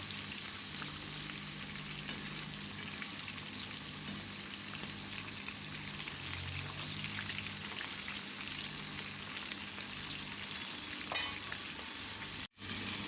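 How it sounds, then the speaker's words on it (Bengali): Sweet pumpkin pieces fry in a pan until reddish, giving a steady broadband sizzle that runs almost unbroken, with a faint clink near the end and no talking. "এইভাবে লাল করে ভেজে নিব"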